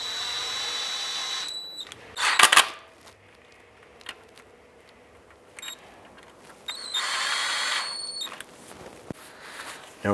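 A power drill spins transmission oil pan bolts on a 2004-2009 Dodge Durango in two sustained whirring bursts, with brief clicks and handling noises in between.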